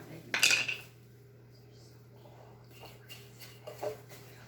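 A utensil clinks against a bowl while stuffing for stuffed mushrooms is mixed, a bright metallic scrape and clatter at the start, followed by a couple of softer taps, close and quiet, with no talking.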